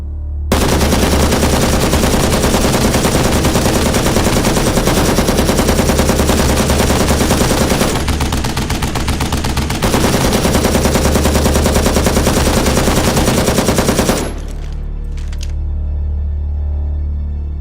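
Newly bought automatic weapons firing long, loud, continuous bursts of rapid automatic gunfire with a short pause in the middle, cutting off abruptly near the end.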